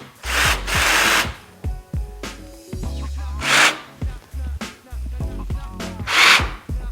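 A power drill drives a screw into an Arcade1up TMNT four-player arcade cabinet without a pilot hole, whirring in several loud bursts with whining pitch changes, stalls and short pauses between pushes.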